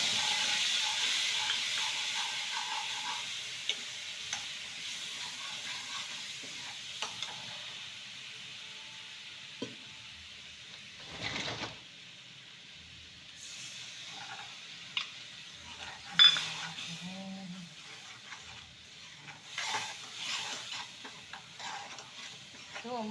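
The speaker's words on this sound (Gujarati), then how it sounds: "રાઈ નાખી દઈએ, ગરમ તેલ થઈ ગયું છે। રાઈ તતડી ગઈ છે," Mustard seeds and garlic sizzling in hot oil in a pan while cooking drumstick curry, a faint continuous fry with occasional crackles, pops and utensil knocks.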